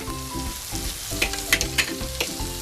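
Bacon sizzles and fries steadily on an electric grill pan, close and loud, with crackling pops and the clatter of stirring. Tonal music plays in the background.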